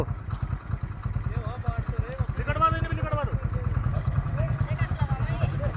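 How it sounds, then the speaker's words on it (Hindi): At a buffalo cart race, a motorcycle engine idles nearby with a low, steady throbbing putter, while people talk and call out over it and sharp whistle-like sounds rise now and then. "ओ मोटरसाइकिल थमा दो, पीछे ही रुकवा दो।"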